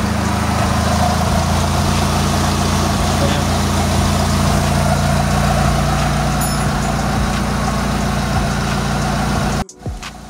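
Mitsubishi Lancer engine idles steadily and fairly evenly for about ten seconds, a close low hum that cuts off abruptly near the end, with no talking over it.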